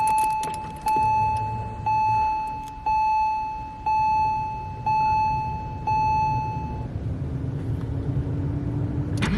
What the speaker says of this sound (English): let's start the car up and listen to the lovely blat of that flat 6 and my lovely Cargraphic exhaust